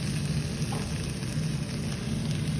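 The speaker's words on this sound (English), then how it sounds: "And we're gonna continue to stir." Enchilada sauce stirred in a frying pan with onion, giving a steady, close sizzle and soft scraping that runs unbroken throughout.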